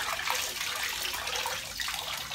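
Water pours steadily over an XD Design Bobby backpack, a constant splashing hiss at moderate level with no voices.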